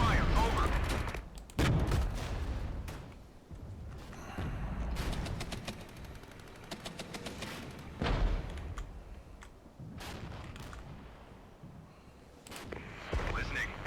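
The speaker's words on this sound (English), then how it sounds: "Reporting hostile fire." Gunfire and artillery in the WWII video game Regiments: repeated sharp shots and heavy booming blasts in irregular bursts, some near and loud, others distant, with faint voices at times.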